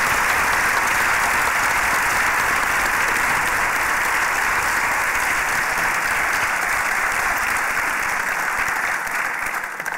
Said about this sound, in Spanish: Ya está. Un aplauso.